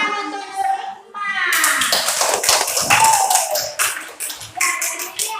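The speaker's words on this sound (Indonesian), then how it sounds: "tepuk tangan untuk Nurima" Classroom applause for a student: a burst of many hands clapping and tapping, mixed with children's voices after a teacher speaks.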